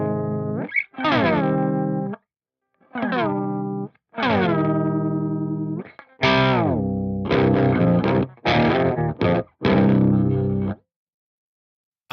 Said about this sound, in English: because I have this set on poly mode, I can do chord bends